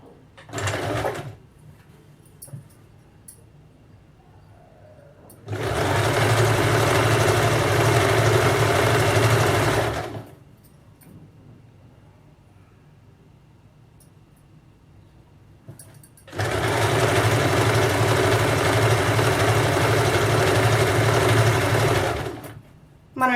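A sewing machine stitches a quarter-inch folded edge around a salwar (ladies' pant), running in two long steady bursts of about five seconds each, separated by quieter pauses with faint handling noise.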